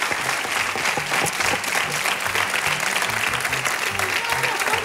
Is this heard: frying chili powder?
no